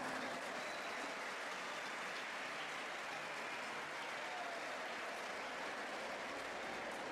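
A large audience at a school interclass sports closing ceremony claps in a dense, unbroken roar of applause that stays loud and steady from start to finish.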